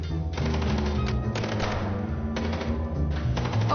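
Rapid bursts of gunfire aimed at tires in the Chicken Police game, a dense rattling stream of shots with brief breaks between volleys, steady and fairly loud throughout.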